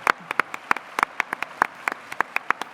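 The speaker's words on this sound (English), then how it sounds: "You can applaud as well." At a conference closing ceremony, a small audience claps for award winners. The handclaps are sparse and distinct, spread irregularly across the moment rather than building into a dense roar, and no one speaks over them.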